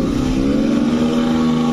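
Hero Splendor Plus motorcycles race with engines revving in a steady, slightly rising drone, loud and close with no talking.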